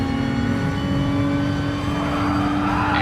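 Racing cars drone steadily on a video game circuit right behind a Peugeot RCZ, engine tones sustained and close with a constant hum throughout.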